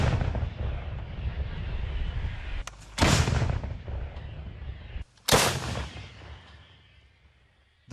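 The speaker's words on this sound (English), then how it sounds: "Those two bangs were their guns replying." Two massive, separate artillery booms from guns returning counter-battery fire during the Russian invasion of Ukraine, the first near three seconds and the second near five, each rolling away over a constant low rumble.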